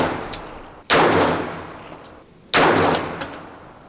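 A DEFGUNZ Alpha 9 Plus 9mm pistol caliber carbine fires two loud, sharp gunshots about a second and a half apart, each with a long decaying echo trailing off across the range.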